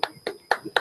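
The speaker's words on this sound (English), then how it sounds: "A big round of applause to Toastmaster Sai." A few sharp, sparse claps ring out during an online Toastmasters club meeting, four distinct hits spaced evenly in under a second, thin and close to the microphone.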